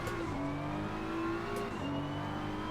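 A BMW M4 race car in a racing video game accelerates out of a turn, its engine droning loudly and steadily with rising and falling pitch, and no break in the sound.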